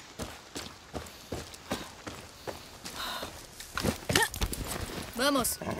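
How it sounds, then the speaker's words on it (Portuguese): Horse hooves clip-clop in the Far Cry 6 video game as a rhythmic series of close hoofbeats mixed with game sounds, with a brief voice-like call near the end. "É um cavalo dando sopa aí, né?"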